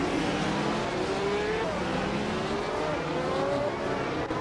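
1975 Formula 1 race cars at Ebisu West in a racing game drone steadily and loudly, with several engine notes rising and falling as cars shift and jostle together, a continuous racing roar with no voices.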